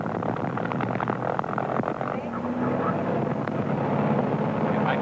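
A light propeller aircraft's engine runs steadily at 2100 RPM after start-up, with mixtures rich and props forward. It gives a loud, continuous droning rumble with no breaks throughout.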